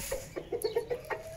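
A hen that had been sitting on a clutch of hatching eggs clucks close by in a quick run of short, throaty calls with brief gaps between them.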